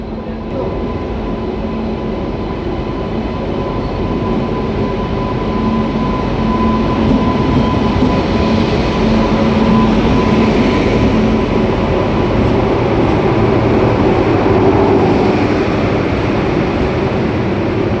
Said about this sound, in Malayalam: കേരളത്തിൽ ആദ്യമായി പരീക്ഷണ ഓട്ടം നടത്തി ഡബിൾ ഡെക്കർ ട്രെയിൻ.